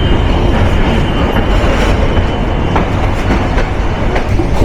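The Nilsagar Express passenger train rumbles loudly along broad gauge rails in Bangladesh, with a dense, continuous roar and faint rhythmic clacking of wheels over track joints.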